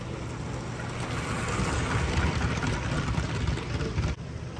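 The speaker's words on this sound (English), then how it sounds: "Just got to start up an engine and see what happens." A model railroad engine starts up at a hobby show, giving a steady mid-to-low mechanical hum and whir under a busy hall background, holding constant before dropping slightly near the end.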